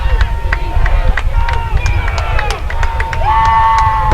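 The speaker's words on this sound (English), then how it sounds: "The active crowd wanting Vineland's first playoff win as they start to chant for the defense" A lively high school football playoff crowd in Vineland chants for the defense on third down, rhythmic group voices and cheering filling the stands with a steady loud roar, punctuated by sharp shouts and claps, with a commentator talking over it.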